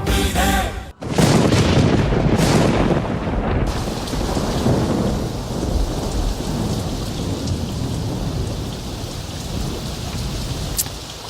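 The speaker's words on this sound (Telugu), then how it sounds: "ఏమిటో ఈ వర్షం" A loud thunderclap opens, then heavy rain pours steadily on surfaces with low rumbling thunder beneath, continuous and close throughout.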